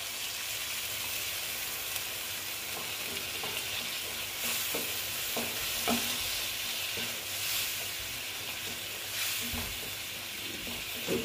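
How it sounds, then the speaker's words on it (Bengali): Water is added to paneer mash frying in a pan, giving a steady loud sizzle and hiss with occasional stirring scrapes and clinks throughout. "এবার আমি অল্প এখানে জল অ্যাড করব।"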